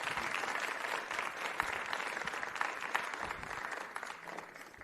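Audience applause at a school learner leadership summit as a guest walks to the podium, a steady even wash of clapping at moderate distance, sustained throughout without voices.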